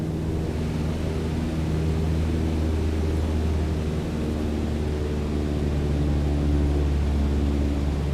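Steady, droning piston aircraft engine in Microsoft Flight Simulator 2020, throttled back to cruise at about 2300 RPM, a continuous low hum with even tonal layers and no voices.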